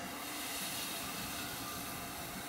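Tweetsie Railroad #12 steam locomotive idling, a steady broad hiss with a low rumble underneath, constant and fairly quiet throughout.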